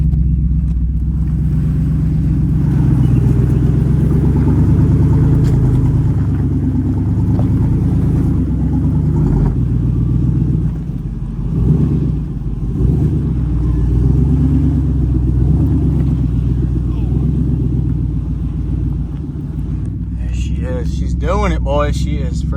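Off-road truck engine with a 4L60 transmission climbing a steep rock section in two-wheel drive, a loud steady low rumble with rising revs throughout, while a person talks over it.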